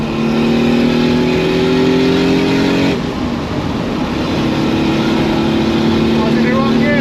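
A Toyota Supra with a manual gearbox and single-turbo engine accelerates hard through a tunnel with the windows down, rising loud engine tones cutting off at a gear change and then pulling again, close and echoing.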